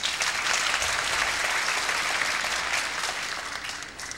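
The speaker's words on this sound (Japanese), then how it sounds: "それでも一投一投最後の最後までギャラリーの声援拍手を受けます" Sustained applause from the gallery at a women's bowling tournament final fills the whole stretch, a dense steady clatter of clapping with faint cheering, fading slightly at the end.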